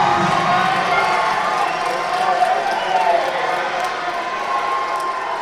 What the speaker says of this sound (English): A roar of applause.